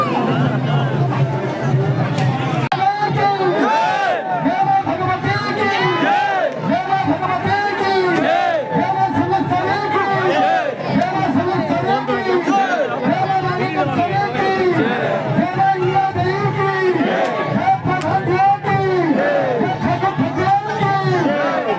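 A large crowd at the Sunabeda Sunadei fair fills the air with a loud, constant babble of many voices. Shouts and calls rise out of the dense hubbub from start to finish.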